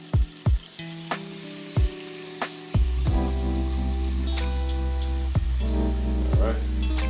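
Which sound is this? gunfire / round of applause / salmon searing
salmon searing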